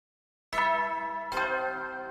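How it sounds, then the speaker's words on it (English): Announcement chime from The Hundred Line: Last Defense Academy video game, two bright bell-like tones struck about a second apart, each ringing on with a clear sustained tail after a moment of silence. "We heard Suray's overly positive announcement for day 100 play."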